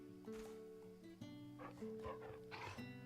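A low-poly dog in the video game Final Fantasy XVI makes faint whimpering and barking sounds over sustained orchestral music.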